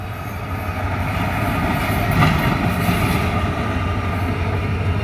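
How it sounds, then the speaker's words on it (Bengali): A train arrives at Cox's Bazar from Dhaka without its remaining coaches, with a steady, continuous rumble of wheels on rails and faint squeals, heard alone and fairly distant. "ঢাকা থেকে কক্সবাজারের তৃতীয় ট্রেন আসছে কিন্তু বাকি বগিগুলো ছাড়াই"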